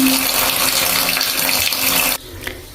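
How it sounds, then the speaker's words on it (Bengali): Leafy greens are rinsed under a tap, a loud continuous gush of running water that cuts off abruptly near the end, leaving a brief quieter splash. "শাকগুলো এখন ধুয়ে নিই আমি"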